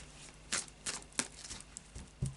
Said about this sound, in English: So another couple of shuffles.